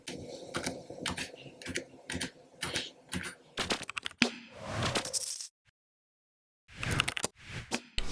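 Clacking keys of a Keychron K3 low-profile mechanical keyboard with optical switches, typed in an irregular close-up rhythm, pausing briefly before a final quick flurry of strokes.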